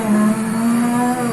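Engine of a Ferrari SF70H Formula 1 car in the racing game Assetto Corsa, a loud, sustained high-pitched engine drone holding a steady tone over a brief moment, with no talk.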